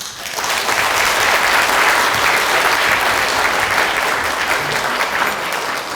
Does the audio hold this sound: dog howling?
no